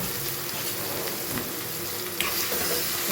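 A pan of dal tempering with asafoetida sizzles as lemon, tomato and green chilli go in, a close, dense, bubbling hiss that sputters steadily and flares slightly near the end.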